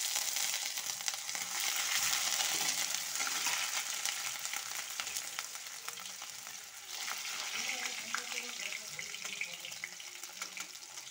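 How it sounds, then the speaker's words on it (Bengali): Ginger and bay leaves fry in hot oil in a home kitchen, a steady bright sizzle with faint stirring and clatter underneath, fairly close and without clear speech. "আদাটা ভাজা হয়ে গেছে, এখন সবজিগুলো ঢেলে দিব।"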